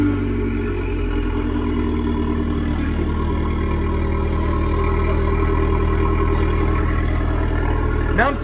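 A car's engine idles steadily with a deep, even rumble right after its first key start, close and continuous throughout with a slight rise near the end.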